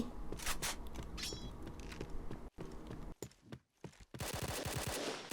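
JackHammer automatic shotgun fire in a video game: rapid, loud bursts of booming shots in quick succession, broken by a couple of short pauses before another dense volley.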